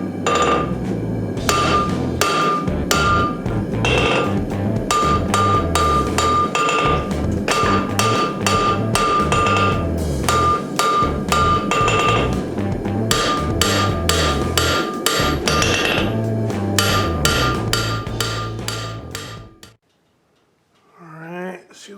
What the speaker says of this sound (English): I think I'm going to forge it a bit thinner.